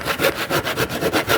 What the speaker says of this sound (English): we'll just take a handsaw